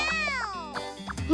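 Cartoon cat meowing several times in quick succession, bright drawn-out mews close and clear, with a childlike cartoon voice speaking around them.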